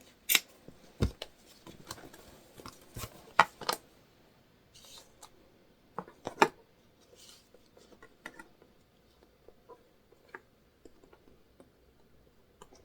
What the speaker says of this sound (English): Let me just cut it, and then we'll measure it.